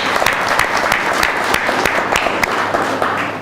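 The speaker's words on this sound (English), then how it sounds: "let's give her a big applause" Audience applause for someone speaker at a social business design lab gathering, a steady crowd clapping with some sharper individual claps standing out.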